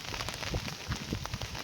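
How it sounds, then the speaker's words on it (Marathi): Rain falling during a trip to the Konkan coast, a brief close patter of drops with a busy, crackling texture and no talk. "पाऊस फायनली आलाय."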